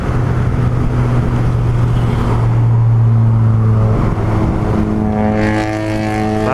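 A 2022 Suzuki Raider R150 Fi motorcycle engine, being broken in, runs with a steady droning hum that rises in pitch near the end as it revs, loud and close.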